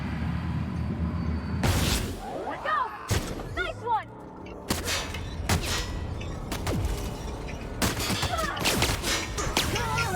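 Rapid gunfire bursts and heavy thuds in The Outer Worlds on its hardest Supernova difficulty, loud sharp impacts recurring across the stretch, with game effects and a voice chirping between shots.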